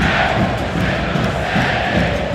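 Loud, dense roar of a stadium crowd at an MLS soccer match, a steady wash of cheering and shouting voices with no break, close and enveloping.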